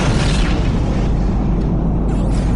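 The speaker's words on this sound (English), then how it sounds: "Multi-beam frigate destroyed." A multi-beam frigate blowing apart in Homeworld Cataclysm: a loud, sustained rumbling boom with dense low-end roar that holds steady for a few seconds and never drops away.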